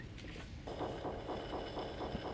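A submarine engine on a sonar recording played at ten times speed: a rhythmic, pulsing throb repeating at a steady fast pace, like a churning engine, over constant hiss and low rumble.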